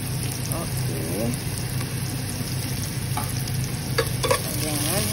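Onion and garlic fry in a pan with a constant hiss and sizzle, stirred now and then, while a person talks intermittently over the cooking.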